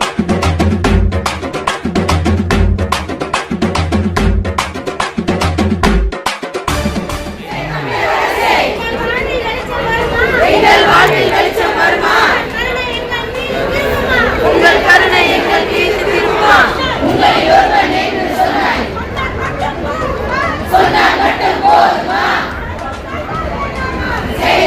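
Protesting nurses at Kilambakkam shout and chant as a loud, dense crowd, first in sharp rhythmic bursts and then as a continuous roaring babble of many voices.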